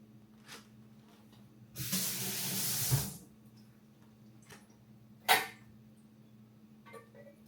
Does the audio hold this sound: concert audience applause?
no